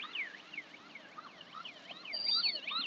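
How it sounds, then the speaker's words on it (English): A siren on an Okada motorcycle taxi in gridlocked traffic at the Niger Bridge wails in fast, rising and falling sweeps, with a second siren joining near the end, loud and close over traffic noise. "You see, and the Okada comes in with siren."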